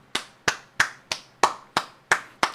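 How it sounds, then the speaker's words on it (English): Eight evenly spaced sharp claps, close and crisp, each with a short decaying tail, coming from one person or a small audience rather than a crowd, with no voices alongside. "Please clap."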